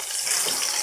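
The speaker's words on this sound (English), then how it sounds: "We're gonna add 1 cup water" Hot water pours steadily into a pot of oxtails being cooked for pasta, a close, continuous splashing gush lasting under a second.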